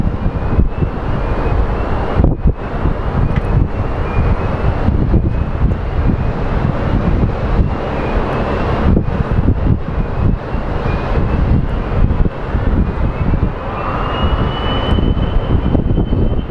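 Fixed-wing airplane taking off at Phoenix Sky Harbor airport, a loud, steady engine roar that fills the whole stretch, with gusty wind buffeting the microphone and a faint high whine rising through it.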